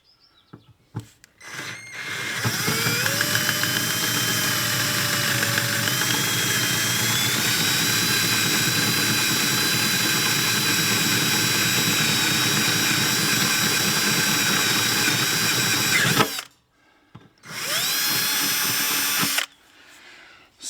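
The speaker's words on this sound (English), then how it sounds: "Right, I've got the drill on slow." A cordless drill running at slow speed bores a hole for a rivet nut in a Range Rover rock slider: a steady, sustained whine with a slight pitch dip, starting after brief handling noises, stopping, then a short second burst.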